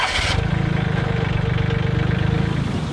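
A Summit TX25 compact tractor engine running at a steady, throbbing idle, close and loud, after a short burst of noise at the start.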